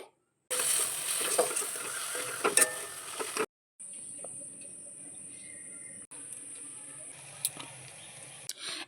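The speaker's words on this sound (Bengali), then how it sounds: "দিয়ে আমি মশলাটাকে 1 মিনিট কষিয়ে" A masala of kasuri methi and garam masala cooking in a pan for paneer masala, a faint, steady frying hiss broken by brief gaps and a few small stirring clicks, with no speech.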